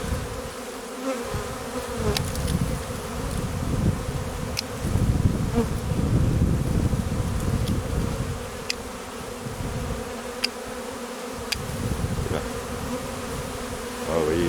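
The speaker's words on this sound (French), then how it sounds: "toutes les abeilles qui volent se rassemblent là" A honeybee swarm in flight gathers at a hive in an apiary meadow, a dense continuous buzzing hum from many bees, close and loud, swelling and easing slightly with occasional individual bees passing near.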